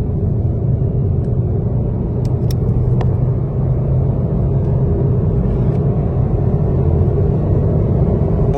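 A 2021 Suzuki Swift petrol hybrid weighing under 900 kg pulls at full throttle in third gear, its engine giving a steady, loud cabin rumble throughout without a break.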